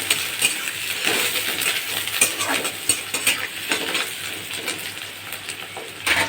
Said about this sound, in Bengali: এবার আমি পেঁয়াজটা আর রসুন কুচিটা ভেজে নেব।